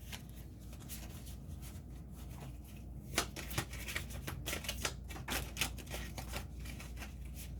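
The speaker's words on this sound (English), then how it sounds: "Bear with me as I shuffle and get that energy here." Tarot cards shuffled by hand in a quiet room, a steady run of soft riffling and crisp flicks close to the listener with no talking.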